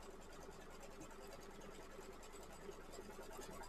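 Embroidery machine stitching fabric down for a fruit slice design, a steady, quiet rapid mechanical pattering with even rhythm and no talking.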